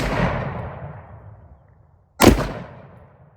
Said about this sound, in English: then we'll shoot through here